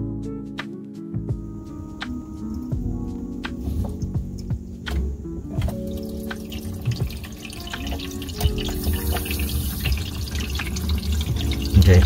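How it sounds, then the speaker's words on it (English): Water runs through a newly installed APEC reverse osmosis system under a sink, a steady hiss and trickle with intermittent clicks and drips that builds slightly over time. "I can hear water is flowing."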